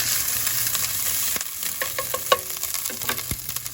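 Ginger sizzles and spits loudly in hot oil in a pan for an Odia vegetarian dish, with a steady frying hiss, close and loud, broken by a few stirring clinks.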